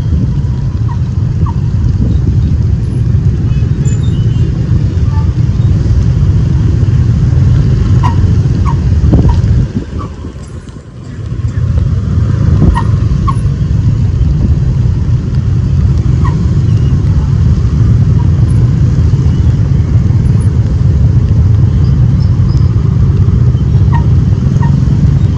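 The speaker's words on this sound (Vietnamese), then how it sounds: "Phía trước đang ùn tắc, kẹt xe, tại vì đó là ngay cái góc vòng xoay." Rush-hour traffic jammed at a roundabout in Nha Trang during heavy evening rain produces a loud, steady engine and road rumble, with a brief dip in the middle before the dense hum resumes.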